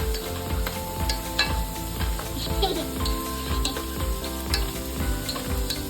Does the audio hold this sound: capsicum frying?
yes